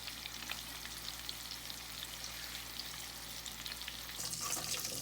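Tortang talong, an eggplant omelette with ground meat, frying in a pan with a steady close sizzle and crackle, growing brighter and louder near the end.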